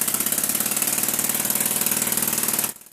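A small diaphragm air engine fed from a pressurized two-litre bottle runs on a thrust test bench, giving a loud, rapid, steady mechanical buzzing pulse that cuts off abruptly near the end.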